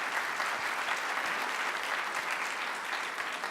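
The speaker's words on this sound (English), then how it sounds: "I think you deserve a round of applause for that" Steady applause from a room of business people and community leaders at an annual meeting keeps going without a break. The sound is moderately faint and even.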